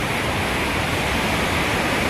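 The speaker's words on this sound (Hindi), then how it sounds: "पानी की सरसराहट तो आप सुन भी रहे होंगे और महसूस भी कर रहे होंगे" Water rushing through the Taunsa Barrage headworks, a loud, dense and unbroken roar that holds steady throughout without any voices.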